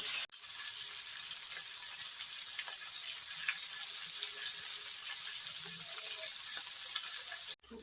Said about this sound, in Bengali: মাছটা ভেজে নেবো ভালো করে।